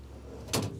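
A heavy-duty all-aluminum drawer slides open inside a 2023 27North RexRover AC1 expedition truck, giving one short sliding clunk against a quiet interior.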